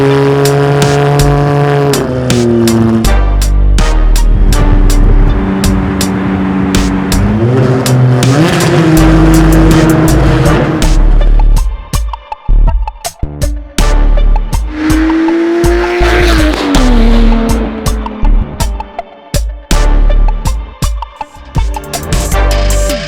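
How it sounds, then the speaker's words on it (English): A custom Ferrari 612 V12 roars and revs hard while its tires squeal and skid, loud and close, with sharp pitch sweeps, bursts of throttle and screeching rubber across the run. "It's loud, it's low, it's unapologetically insane, and it just might be the most beautiful chaos on four wheels."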